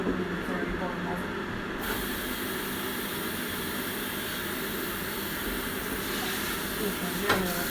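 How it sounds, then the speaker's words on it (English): Water running and spraying into a kitchen sink while a dish is rinsed out, a steady broadband hiss with a brief splashy burst near the end. "I'm going to give it a quick rinse out."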